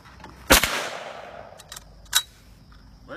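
Two sharp gunshots ring out about a second and a half apart from 80-year-old World War II ammunition, each a loud crack with a short decaying echo, at an outdoor shooting spot.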